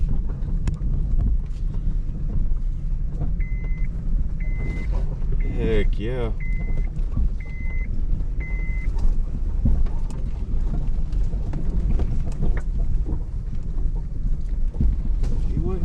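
A car drives slowly through a woodland trail widened for vehicles, a steady low rumble with wind buffeting the microphone throughout and a brief spoken exclamation.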